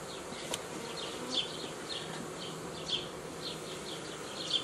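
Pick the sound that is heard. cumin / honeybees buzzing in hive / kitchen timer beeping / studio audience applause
honeybees buzzing in hive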